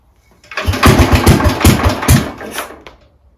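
A 1961 Bolens Ride-a-matic riding mower engine is pulled over and catches, giving a rapid loud chugging burst of firing pulses that runs for about two seconds before fading back toward quiet, heard close with no talk.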